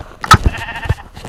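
Sheep bleating in Minecraft Pocket Edition, a couple of short nasal bleats close by with a few soft thumps around them.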